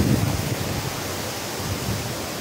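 Cascade des Combes waterfall near Saint-Claude, water pouring and splashing in a steady, dense roar close by, with no voices.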